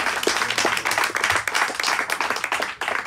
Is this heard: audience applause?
yes